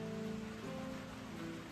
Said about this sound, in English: sitting out a little rain squall